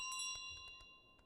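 A small bell carried around in Untitled Goose Game gives a few bright, faint dings and light jingles, a cluster at the start and scattered strikes after, quiet and without voices.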